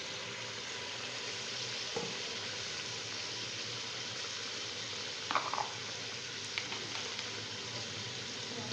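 Spice masala paste of ground onion, tomato and yogurt frying in a pan for aloo gosht, a steady broadband sizzle throughout with a few brief spoon scrapes and clinks, no talking.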